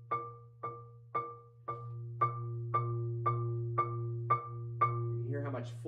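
A vibraphone with its resonator tube covered sounds a series of about ten evenly spaced struck notes, each dry and quickly fading, played close and alone.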